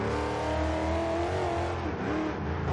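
A 2009 Chevrolet Corvette V8 in the Forza Horizon 2 racing game pulls hard through a tunnel, a loud, continuous engine roar with a steady revving drone and a brief dip mid-run before climbing again.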